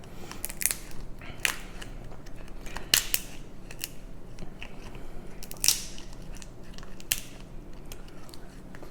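Repeated sharp cracks and snips of a crab cracker crunching through crab shells, close up and irregular, with crackly handling noises between them.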